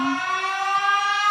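A siren sound effect plays alone as a loud, steady wail that rises slightly in pitch, with no talking over it.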